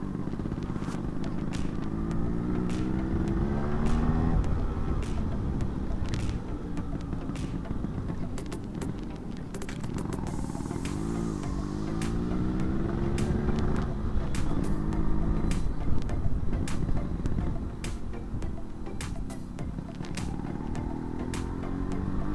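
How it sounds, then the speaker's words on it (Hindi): A Yamaha RX 135 two-stroke motorcycle rides past nearby. Its engine gives a buzzy, crackling note that rises and falls through revs and gear changes over about twenty seconds, with occasional sharp pops. "अभी थोड़ा आप लोग 2-stroke का मज़ा लो"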